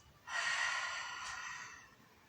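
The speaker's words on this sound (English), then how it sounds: "So we're breathing out." A single long breath out during an adapted yoga session, an audible close exhale through the nose or mouth lasting nearly two seconds.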